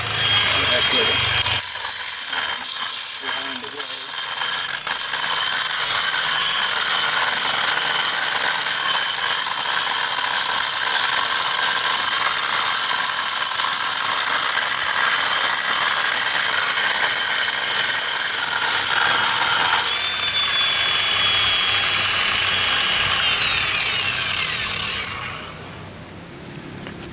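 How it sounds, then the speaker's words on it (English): A small handheld grinder with a diamond wheel cuts stone while a pond is being renovated, producing a loud continuous high-pitched whine with gritty, fluctuating cutting noise that runs for nearly the whole span before winding down near the end. "I'm going to use this little grinder. It's got a diamond wheel on it, and demonstrate how that works"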